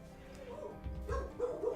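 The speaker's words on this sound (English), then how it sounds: "Sorry about the dogs. That should just be a moment of them barking." Dogs barking and yipping in a home, a few short barks and whimpers at moderate distance, fairly loud against a quiet room.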